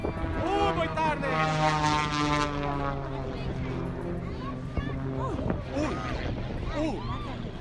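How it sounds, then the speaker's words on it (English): An aerobatic propeller plane drones steadily at an air show, with a loud sustained engine buzz whose pitch shifts as it passes, and people talking over it throughout. "An aerobatic plane crashed during an air show."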